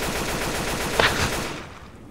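Gunfire in Left 4 Dead 2 hits indestructible garden chairs, a dense rapid burst of game shots with one sharp impact midway, then fading away.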